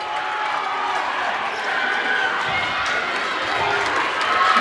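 A volleyball crowd roars continuously in a high school gym during a tied varsity match, loud sustained cheering with shuffling and thuds of play underneath.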